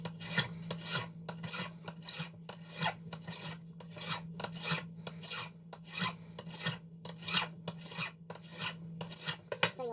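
A file makes about twenty quick, evenly paced swipes across the metal threads of a custom lightsaber hilt to correct its clocking, each stroke a close, crisp rasp over a low steady hum.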